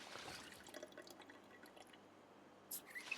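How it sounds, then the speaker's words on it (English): Water trickles and drips into a bottle being filled in the survival game Project Zomboid, a soft close stream with small splashes over a quiet background, no talking. "Fill our water bottle."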